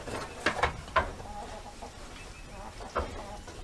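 Chickens on a goat farm give a few short clucks and squawks over a low outdoor background, close and moderately loud, with brief pauses between calls.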